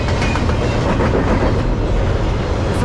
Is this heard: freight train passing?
yes